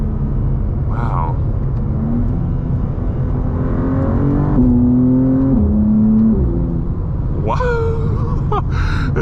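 A BMW G87 M2 with an M2CS tune accelerates hard from inside the cabin, its engine note climbing and then stepping down with quick, crisp gear shifts over a steady rumble, and a voice speaks briefly over it.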